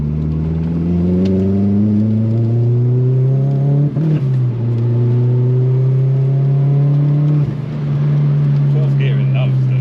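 A Rover 220 Turbo coupe revs hard through the gears, its engine note climbing steadily, dipping at each change and climbing again, loud and close from inside the car.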